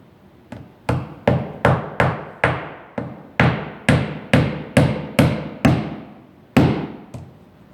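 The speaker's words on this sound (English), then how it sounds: "so we're nailing every foot." A hammer drives nails into vinyl siding with about fourteen sharp, loud strikes in a fairly steady rhythm, each ringing briefly before the next.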